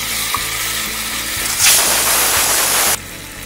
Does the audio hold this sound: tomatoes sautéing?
yes